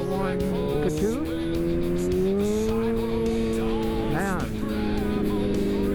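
A Yamaha R1 motorcycle accelerating on the road, a loud sustained engine whine with shifting pitch and brief gear-change dips, near and continuous under wind noise and a voice.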